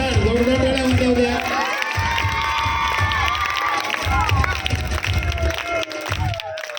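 At a school annual function, a crowd of children cheers and shouts amid scattered clapping, with voices rising and falling over the noisy hall.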